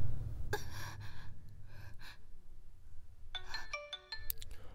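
A melodic electronic ringtone chimes in rising and falling notes near the end, after a few breathy sounds over low background hum.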